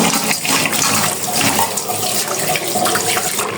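Lentils rinsed under running water at a kitchen sink, with a steady, close rush and splash of tap water filling the whole stretch.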